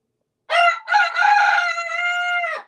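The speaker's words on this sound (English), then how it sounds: "the intensity builds from the first crow in the morning" A rooster crows in the morning, one long clear call that starts in a stutter and then holds a strained high note before cutting off, loud and close with no talking.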